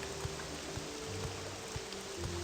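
Rain falling in the video game Morrowind, a faint steady patter with soft scattered drops and a quiet ambient hum beneath, with no voices.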